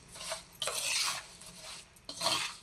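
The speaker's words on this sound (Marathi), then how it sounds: "आता मसाला आपण हा खार पूर्णपणे असं हलवून घ्यायचा" Spiced oil brine with mustard, turmeric and salt is stirred into raw mango pickle in a pot: close scraping and sloshing strokes come in several bursts with short pauses between them.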